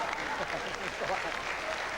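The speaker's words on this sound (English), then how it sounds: "Give them a round of applause, will you?" An audience at a stage hypnosis show gives a brief round of applause, soft and somewhat distant, with a voice speaking over the clapping.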